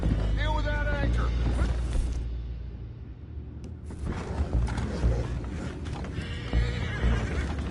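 Horses in a video game neigh and whinny loudly at the start and again near the end, with hoof clip-clop, roaring action noise and scattered game voices in between.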